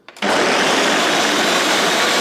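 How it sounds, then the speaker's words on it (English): A countertop blender whirs up lemon and ginger with about 500 ml of water, a loud, steady motor roar kicking in sharply and running unbroken without talk. "now we blend"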